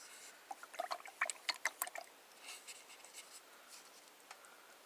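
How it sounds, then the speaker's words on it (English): A fan paint brush, from a Royal and Langnickel acrylic brush set, swished and tapped in a water pot: a quick burst of small wet clicks and trickles, then softer sloshing, close and quiet. "Wash the fan brush again."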